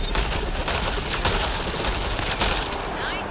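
Gunfire in a Mass Effect: Andromeda firefight: rapid crackling shots in a steady, busy stream at moderate level, with some speech-like sound mixed in.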